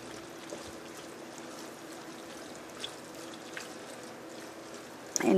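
A small amount of water trickles and pours into a pot while making chili cheese mac at home, a faint steady stream sound with a sharper knock right at the end.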